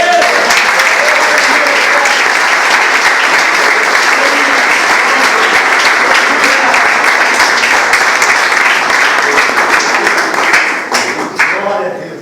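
A church congregation applauds loudly and continuously for about twelve seconds, a dense wash of clapping with some voices mixed in, tapering off slightly at the end.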